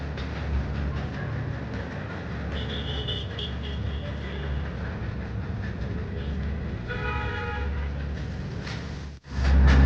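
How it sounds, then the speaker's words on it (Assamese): Darjeeling heritage steam engine train on the mountain railway, a continuous loud rumbling and clattering roll with brief whistle-like tones over steady low engine noise, ending in a sharp knock. "এই হেৰিটেজ ষ্টিম ইঞ্জিন ট্ৰেইন অকল এতিয়া দাৰ্জিলিঙতহে দেখিবলৈ পোৱা যায়"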